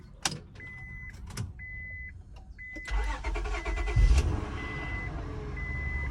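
A Honda Accord bought at auction starts up: a chime and door-ajar beeps sound first, then the starter cranks and the engine catches into a steady idle with warning beeps continuing, close by.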